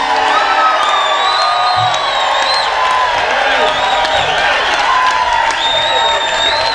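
A large crowd at a 2014 Moral Monday rally in the mountains screams, whoops and cheers. The roar is loud and continuous, with shrill shouts rising above a dense wall of voices.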